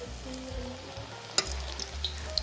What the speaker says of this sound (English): add in the shaped vada and deep fry them till they are beautiful golden in color and is crispy